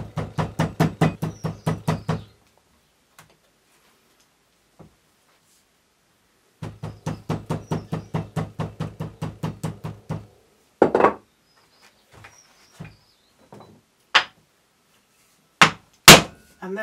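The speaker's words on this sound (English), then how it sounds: "turn it over, to knock the clay into the stamp, and to try and avoid any air bubbles." Clay knocked into a stamp to drive out air bubbles gives a few sharp, isolated thumps spaced a few seconds apart, following a stretch of rapid buzzing pulses.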